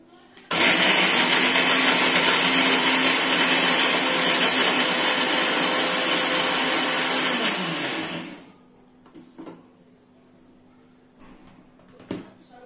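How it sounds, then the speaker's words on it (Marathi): A kitchen mixer grinder pulverises pieces of dry coconut for a Kolhapuri egg curry, a loud, steady whirring roar for about eight seconds that winds down and stops, followed by quiet with a few small clicks. "त्यानंतर मग मी कांदा त्यामध्ये घालून मिक्सरला लावून घेणार आहे"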